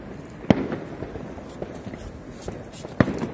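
A box of fireworks set off on New Year's Eve 2021 for Tết in Vietnam pops with two sharp, loud bangs about two and a half seconds apart over a steady crackling, rustling background.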